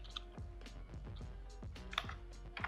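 Keys tapped in short uneven bursts on a computer keyboard while JavaScript code is entered for an HTML5 memory game, close and fairly quiet, with no talking.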